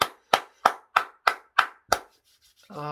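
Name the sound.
congregation applauding for the Lord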